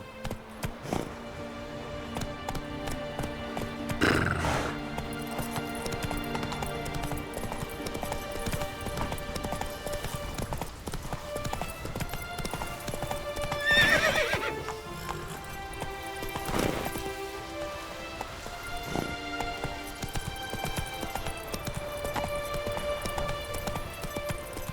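A horse gallops in The Witcher 3: Wild Hunt, with a continuous rhythmic clatter of hooves under game music for about twenty-five seconds, broken by occasional neighs and snorts and no talking.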